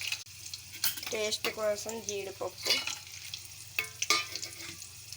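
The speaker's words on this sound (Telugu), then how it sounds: "పచ్చిమిరపకాయలు వేసాను 2. బాగా వేగాలి." Green chilies fry in oil with cumin for a prawn curry, a low steady sizzle running beneath a voice talking close by.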